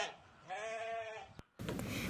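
A single goat gives a clear, wavering bleat that lasts about a second. A sharp click follows, then a burst of noisy background sound.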